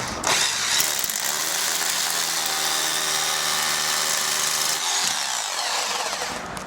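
A power drill with a 10 mm bit bores a hole low down while installing a garage door kit, giving a loud, continuous high whine for several seconds that cuts off near the end.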